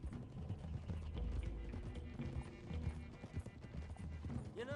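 Horses gallop across hilly ground in the video game Red Dead Redemption 2, a group of riders pushing their mounts. Steady, fairly quiet hoofbeats run under a busy background of game sound.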